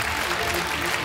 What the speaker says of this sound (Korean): 수상자에게 다시 한번 큰 박수 부탁드리겠습니다